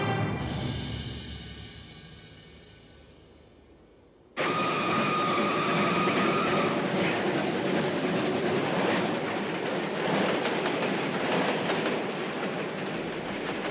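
Packed trains rolling across Soviet territory in summer 1945; a steady, loud rumble of rail cars with clattering wheels fills the whole stretch after a sudden start, continuous and close.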